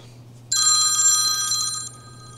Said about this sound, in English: There's always another phone call.